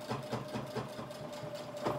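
A sewing machine running while stitching a nose piece onto a type 1 fabric mask, giving a faint, rhythmic mechanical chugging that pulses steadily throughout.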